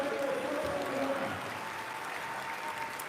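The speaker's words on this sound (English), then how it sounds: "Crowd going wild. The crowd goes wild." A crowd at a bike trials World Cup round in France cheers and applauds wildly after an elite 20-inch rider's run, a dense, steady roar of clapping and shouting with a few voices rising above it.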